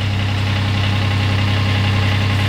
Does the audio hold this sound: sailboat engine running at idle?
yes